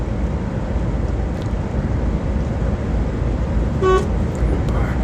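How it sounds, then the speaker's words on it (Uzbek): A short car horn honk rings out near the end over steady road and engine rumble, heard from inside a moving vehicle. "Signal chalib oldim"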